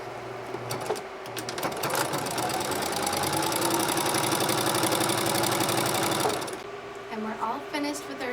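Sewing machine stitching a baby blanket, a steady close mechanical whir with rapid rhythmic needle knocking that starts, runs for several seconds and stops, with a voice speaking around it.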